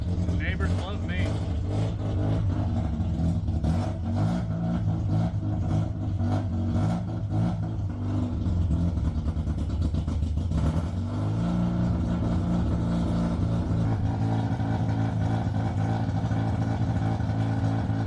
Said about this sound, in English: let's turn the race car on. See who we can annoy. Just like to warm up